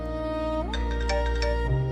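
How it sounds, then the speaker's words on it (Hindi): A mobile phone ringing with a tonal, melodic ringtone whose notes step up and down in a repeating pattern, loud and close, with no talking. "मगर उस दिन उसका फोन बार बार बज रहा था।"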